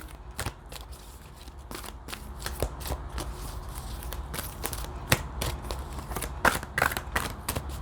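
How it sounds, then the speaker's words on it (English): A Gaia tarot deck is shuffled by hand, a run of close, papery riffles and soft card slaps in an uneven rhythm at moderate volume, with no voices. "I'm going to pull from my Gaia deck for you guys as well."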